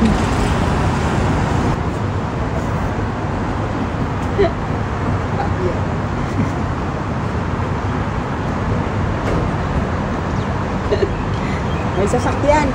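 Continuous road traffic noise with a vehicle passing on a street in the UAE, a dense, even rumble throughout while people chat over it.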